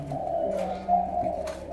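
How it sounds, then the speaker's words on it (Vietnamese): A large, big-bodied tumbler-type pigeon coos nearby, giving low, droning coos with a slight rise partway through, alone with no talk over it. "Con thổ mà con thổ gù cánh bướm, chim thì rất to xác lớn con nha anh em."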